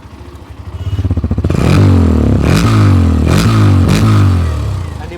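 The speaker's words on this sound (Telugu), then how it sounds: "దాని తర్వాత ఈ ఎగ్జాస్ట్ నోట్ అయితే ఒకసారి విందాం" A Hero Xtreme 125R motorcycle idles up close, then its exhaust rises into a loud rev that holds before three or four sharp throttle blips, each note climbing and dropping back.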